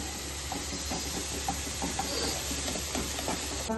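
Tomato, onion and ginger-garlic paste fry in oil for a paneer frankie filling, a dense continuous hiss and sizzle close up with faint occasional stirring ticks and a low steady hum beneath.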